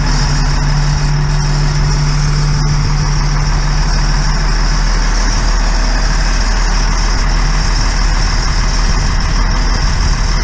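A GMC Topkick hooklift truck runs loud and constant with a deep engine and hydraulic drone, steady throughout as it raises its hook bin.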